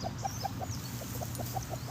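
Silkie chickens squabble on a farm, giving a quick run of short, evenly spaced clucks, about ten in two seconds, fairly faint and close, over a low background rumble.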